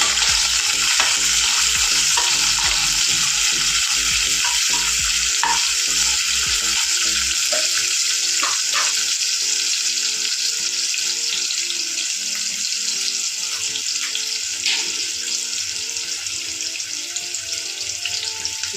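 Finely chopped onion and curry leaves sizzle in hot oil, a steady loud frying hiss with scattered crackles and occasional stirring, close by and alone with no voices.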